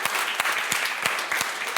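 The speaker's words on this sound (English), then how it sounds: "please give a warm round of applause to our moderator" A conference audience at the Sakharov Conference in Copenhagen applauds the moderator with brisk, dense clapping. Individual sharp claps stand out within a steady, close-sounding round of applause.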